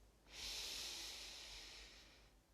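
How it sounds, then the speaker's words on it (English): A slow, steady inhalation during guided meditation, soft and close, rising after a brief pause and holding as a long breathy hiss for about two seconds before easing off, with no talking. "Breathe in"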